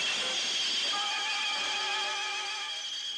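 A New York subway train gives a steady, loud hiss and rushing roar with thin, high squealing tones layered over it, continuous and close throughout, with no talk.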